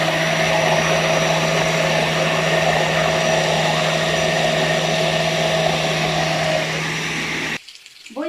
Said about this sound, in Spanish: Vamos a moler lo que vaciamos en la licuadora.